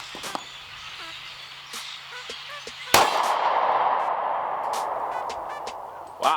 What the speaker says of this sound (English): Here's the Sig P365's first shot impression.